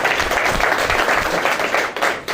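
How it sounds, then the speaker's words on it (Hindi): Brief, loud applause from a seminar audience, a dense burst of clapping filling the whole couple of seconds. "एक बार जोरदार तालियां हो जाए उनके लिए"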